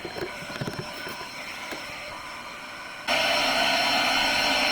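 An ash vacuum cleaning out a Grand Teton pellet stove: a faint mechanical rattle gives way to a sudden, loud, steady motor roar and suction whoosh that runs on continuously.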